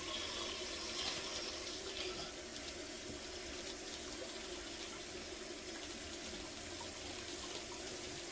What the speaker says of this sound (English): Cold water coming out here.